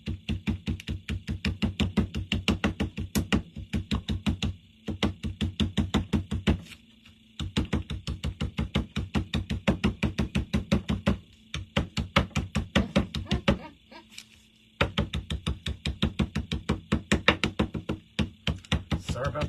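A hammer taps a leaf onto a t-shirt in rapid, steady strikes. The close, dry knocks come in long bursts separated by brief pauses.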